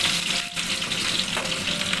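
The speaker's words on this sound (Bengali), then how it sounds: "এর মধ্যেই আমি দিয়ে দেবো পেঁয়াজ কুচি" Chopped onion hits hot mustard oil already holding whole garam masala, giving a steady close sizzle and crackle that runs without a break, with no voices over it.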